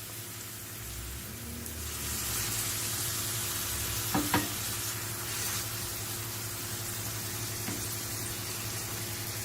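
Chopped onion and frozen spinach frying and being stirred in a pan, a steady soft sizzle throughout with a couple of brief clinks near the middle, no voices.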